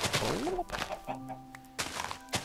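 Chickens cluck in the Minecraft video game, giving a few short, quick squawking calls mixed with light thunks from hits, fairly close, with no talking.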